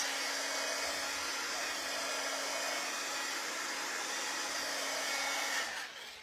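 A handheld dryer blows air steadily to dry stamp cleaning paste, a continuous close whooshing drone with a faint hum that shuts off just before the end.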